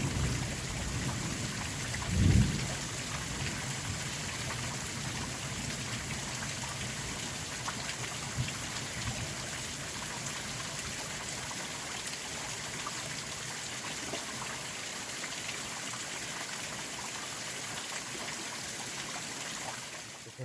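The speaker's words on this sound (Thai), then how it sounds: "ตกฝนค่ะ" Steady rain falls across a forest, a continuous broadband hiss with a trickling, stream-like wash and one brief low thump near the start, with no talking.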